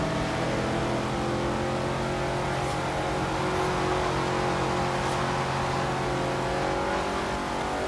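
Ferrari 612 Testarossa engine in Forza Horizon 3, a loud, continuous, steady roar as the car accelerates and holds speed, the pitch rising only slightly, with no talk over it.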